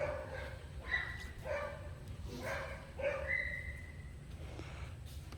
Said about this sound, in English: Doesn't matter where we go, this dog's gonna follow.